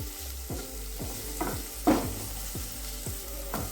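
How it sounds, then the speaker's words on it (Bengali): Chopped onion frying in oil in a pan, a steady crackling sizzle punctuated by rhythmic spatula scrapes and stirring knocks about every half second, close and clear with no voices. "এবার পেঁয়াজ কুচিটাও একটু ভেজে নিচ্ছি"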